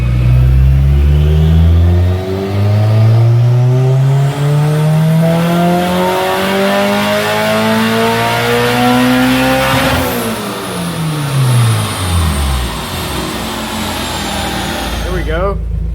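A turbocharged 1992 Honda Civic Si hatch with a B18C1 engine revs hard on a dyno, loud and close, climbing steadily before the revs drop away, under a voice.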